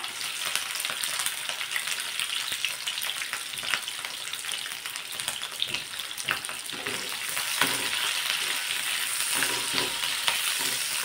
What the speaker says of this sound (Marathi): मोठ्या आचेवर आपल्याला हे परतून घ्यायचं.